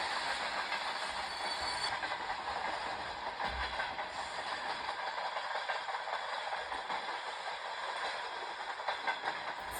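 An RA2 diesel train runs on rails between Lviv and Sukilnyky, with a steady rumble and rattle of the cars and faint clickety-clack, heard from onboard throughout.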